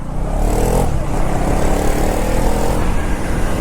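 A KTM Duke 390 motorcycle engine held at full throttle with a speed limiter engaged gives a loud, steady drone that stays near and constant without climbing, with no talk over it.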